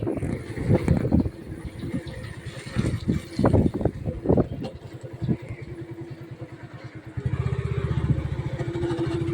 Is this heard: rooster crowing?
no